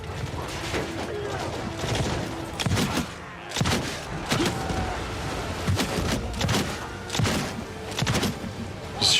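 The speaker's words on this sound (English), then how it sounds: "I should shoot him with my pistol as well" Pistol shots in the video game Warhammer Old Realms Bannerlord, sharp reports repeating at an irregular rhythm amid battle clatter and thuds, with background voices.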